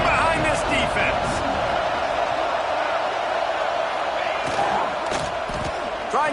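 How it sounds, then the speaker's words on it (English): A football stadium crowd roars steadily for the defense on a big third down in the red zone, a dense sustained cheer with whoops rising over it and a commentator talking above the noise. "this crowd is getting behind this defense."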